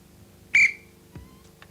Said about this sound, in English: I'm about to blow the whistle.